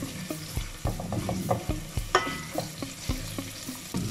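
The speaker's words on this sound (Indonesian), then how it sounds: "Tumis kita punya bawang merah, bawang putih dan halia" Shallots, garlic and ginger sautéing in hot oil for tomato rice with chicken in spicy tomato sauce, a steady sizzle broken by frequent rhythmic stirring knocks and scrapes of a utensil against the pan, close and moderately loud.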